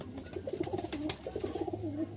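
Soft, low pigeon coos repeat in quick burbling phrases, close by and fairly quiet, with no talking.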